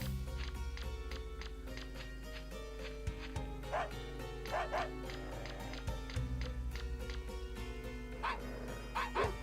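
Dogs bark and a puppy whimpers in a video game set on an island, short yips and barks recurring over steady game music, with a voice talking faintly underneath.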